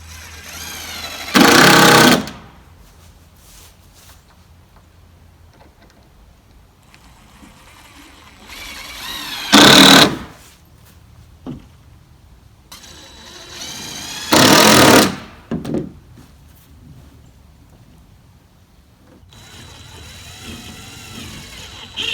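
Power drill driving screws down through plywood sheets on a wooden shed wall frame, three separate whirring bursts of a couple of seconds each, close and loud, with quiet outdoor background between them.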